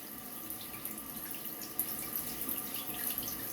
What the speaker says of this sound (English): It does rinse lather very well.